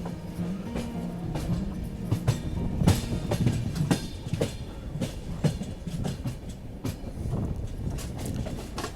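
Ajmer Mysuru Express pulls out of Marwar Junction, its wheels clattering in a steady clickety-clack rhythm over rail joints, loud and close, with a constant rumble from the carriages and no talking.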